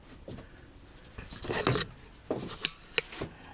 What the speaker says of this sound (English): now we're going to remove the screws.